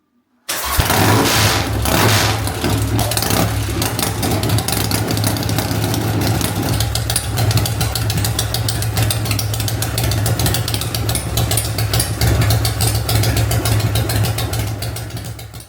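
A custom-built motorcycle engine fires up for the first time and settles into a steady, loud idle with a strong low throb, running close by without talk for about fifteen seconds.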